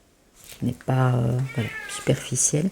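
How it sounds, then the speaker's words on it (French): A pet cat named Lola gives a clear, close meow amid someone speaking French, the cat's call rising between her phrases. "c'est mon chat qui vous dit bonjour"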